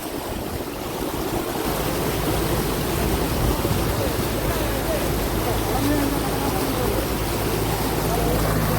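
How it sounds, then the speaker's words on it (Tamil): Fast-moving floodwater in Mullaitivu rushes in a steady, loud roar that fills the whole stretch, churning without pause. "எப்படி தண்ணி ஓடுன்னு பாருங்க"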